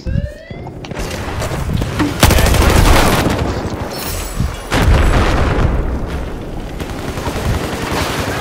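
Loud, dense explosions and gunfire from Battlefield 4 combat, with rockets fired down from above, heavy booms landing around 2 and 4.7 seconds over constant rattling shots and blasts.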